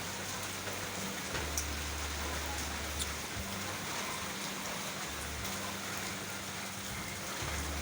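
Heavy rain from typhoon Rolly pours steadily in Caloocan City, a dense, continuous hiss with a low rumble underneath and occasional droplet ticks, alone without talk.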